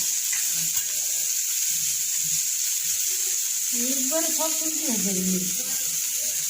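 Vegetables and green chillies frying in an uncovered pan for homemade chowmein, a steady loud sizzle running throughout, with faint background voices and tones underneath.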